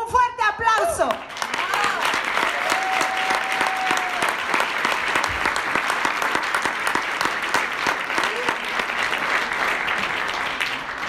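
Audience at a business presentation event breaking into loud, strong applause that fills the room and holds steady for several seconds, dense and continuous, with a voice briefly heard at the start and some cheering mixed in.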